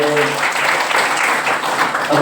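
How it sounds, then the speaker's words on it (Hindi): An indoor audience at a Friday church meeting applauds steadily to welcome guests, a dense, loud wash of clapping that holds for a couple of seconds. "एक बार हम इनका जोरदार ताली बजाकर स्वागत"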